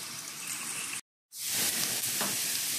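Onions sizzling and frying in a pan as a steady close hiss, briefly cut to silence, then resuming louder and bright with a soft stir partway through.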